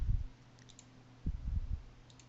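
Computer mouse clicks select terrain elements in design software while laying out a driveway, a few dull, muffled clicks in two short clusters, close and quiet with no talking.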